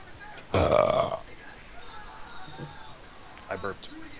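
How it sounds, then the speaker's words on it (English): A loud, guttural burp from a Minecraft character lasting about half a second, followed by quieter faint background sounds. "I burped."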